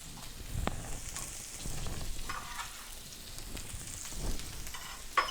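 Leek sizzles in olive oil in a frying pan, giving a steady crackling hiss with scattered sharp pops throughout and no voices.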